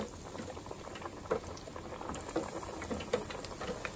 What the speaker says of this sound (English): So once you put the fish in whatever you're frying it in, a skillet or pan or deep fryer, just sit it in there.